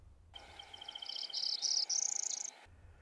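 A small treetop bird sings a buzzy zee-zee-zee-up phrase in Maine woods, a thin rising series of high notes heard alone and fairly close, with faint insect hum behind.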